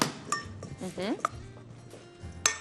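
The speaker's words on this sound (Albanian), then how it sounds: "Vendos një tigan." A frying pan is set down in a home kitchen while meatballs with cabbage are being made, giving a few sharp metallic clanks and clatters close by, with light utensil noise between them.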